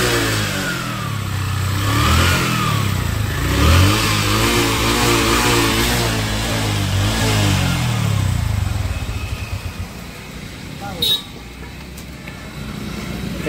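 A motorbike engine revs near a petrol pump, its mid-pitched motor rising and falling in steady surges for about ten seconds before easing off, with a brief clank near the end.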